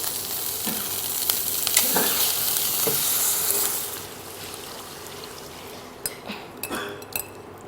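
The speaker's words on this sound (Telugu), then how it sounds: "నెక్స్ట్ వచ్చేసి ఈ తయారు చేసుకున్న బ్యాటర్ని వేద్దాము." Besan batter poured onto fried onions in a pan for methi zunka brings a loud sizzle that gradually settles, followed by intermittent stirring scrapes and clinks.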